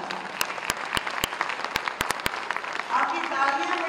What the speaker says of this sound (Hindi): आपकी तालियां बड़ी कमजोर है